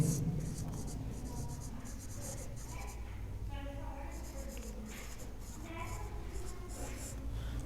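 Marker or chalk scratches across a board in quick strokes while a chemistry teacher explains formula mass for an ionic compound, the writing continuing steadily under the spoken explanation.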